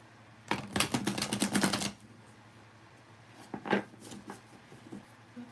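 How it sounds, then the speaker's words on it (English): Tarot cards are shuffled in quick riffling bursts, a dense clatter for over a second, then a pause before a few lighter, scattered flicks and taps of the deck; close and clear, with no voices. "I'm gonna shuffle for you now, Jess"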